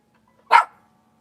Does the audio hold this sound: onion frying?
no